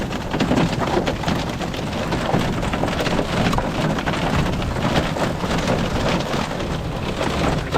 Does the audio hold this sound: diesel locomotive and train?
no